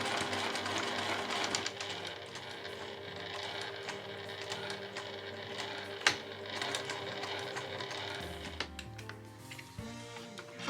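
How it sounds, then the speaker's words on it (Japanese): A sewing machine stitches fabric scraps about three millimetres from the edge, running in a quiet, steady rapid whir with a few clicks and a short pause near the end. "だいたい端から3ミリぐらいを縫っていくようになります"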